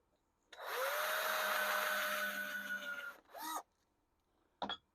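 A power drill deepens screw holes while mounting a hairdryer shelf: one sustained whirring run of about three seconds that winds down, then a short second burst and a brief faint clatter, close and alone.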